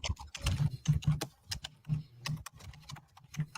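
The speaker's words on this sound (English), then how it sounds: "And I hear Pop's typing." Brisk typing on a computer keyboard, irregular bursts of clicking keys, close and fairly loud, with no voices.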